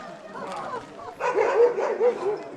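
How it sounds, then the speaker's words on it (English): Sled dogs in the Denali National Park kennel yard, yipping and whimpering barks that rise louder in the second half, mixed with nearby talk. "She is the most zoomiest dog in the yard."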